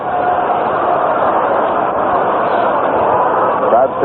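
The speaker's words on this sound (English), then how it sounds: "Crowd still buzzing after Marish's home run" A stadium crowd at a Senators at Yankees baseball game buzzing after a home run, heard over an old-time radio broadcast as a steady, loud, muffled roar of many voices with no breaks.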